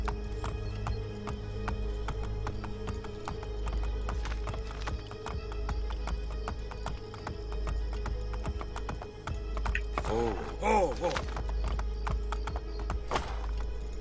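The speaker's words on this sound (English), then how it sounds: "Oh, horse clops." A horse trots steadily through Assassin's Creed Brotherhood, its hooves clopping in a fast, even rhythm under a constant game ambience, with a brief whinny near the end.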